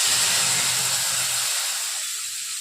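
Powdered spices tipped into a hot frying pan for a potato and pointed gourd curry made without onion or garlic, giving a loud, steady steam-like sizzle and hiss that eases off slightly toward the end, with no voices.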